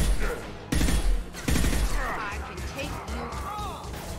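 Mass Effect 2 Legendary Edition combat with loud, close bursts of gunfire and heavy impacts, the first sharp volleys hitting early and then settling into continuous rattling battle noise under shouting voices.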